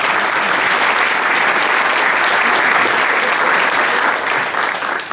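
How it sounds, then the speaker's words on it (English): A crowd gives a big round of applause for a group of pastors, loud, sustained clapping that fills the room evenly and eases slightly at the very end. "Please, a big round of applause for all of our pastors."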